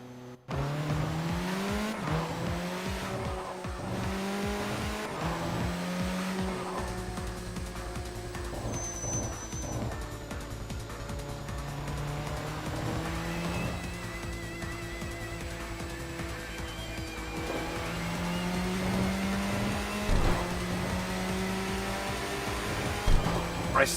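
A car fitted with an R35 engine races in Tokyo Xtreme Racer, its engine note climbing and dropping steadily through gear shifts at a constant loud level for the whole stretch.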